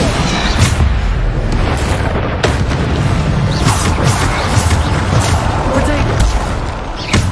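Bombarda blasts go off in Hogwarts Legacy, repeated booming bursts mixed with combat effects while a voice shouts spell names over the fight.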